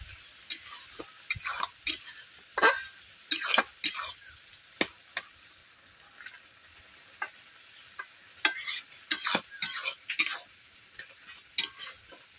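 A spoon scrapes and clatters against a wok while Malabar spinach with potato and eggplant is stirred, in irregular bursts of sharp clinks over a faint steady sizzle, close and alone.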